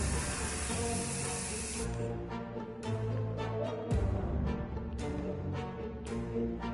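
Bug spray hisses in the survival game 60 Seconds! Reatomized, a loud, broad spray burst of about two seconds at the start, followed by softer spurts and game sound effects.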